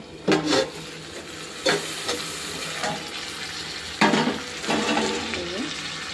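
Fish curry sizzling in a pan, with a steady frying hiss broken by several clattering stirring strokes and scrapes.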